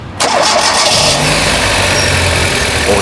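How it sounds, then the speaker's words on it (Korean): A manual Hyundai Click car engine cranks and catches almost at once, then settles into a loud, steady idle close by with no talking. "시동 한번 걸어볼까?"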